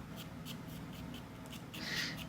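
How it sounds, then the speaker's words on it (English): A white colored pencil makes faint, soft scratching strokes on paper in a quiet room, closing with a slightly louder, longer stroke. "Now I'm going to do a quick sketch with a white pencil"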